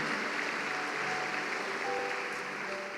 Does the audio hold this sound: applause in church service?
yes